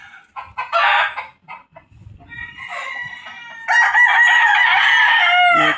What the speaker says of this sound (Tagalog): mga manok po yan sa may tangkal.